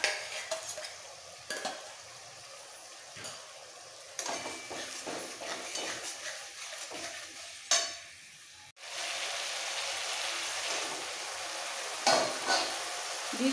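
Ginger and garlic paste sizzle in a pan while cooking a jackfruit curry, with close scraping strokes of a spoon and a hissing sizzle that suddenly grows louder and steadier partway through.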